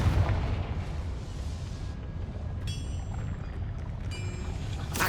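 A Confringo blasting spell explodes in the video game Hogwarts Legacy: a deep booming blast with rumbling low end, followed by bright magical shimmering tones and a second burst near the end.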